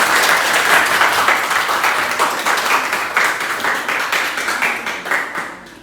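An audience applauds after group presentations at an academic coaching session: a dense burst of clapping, loud and close, that stays steady and then fades out near the end.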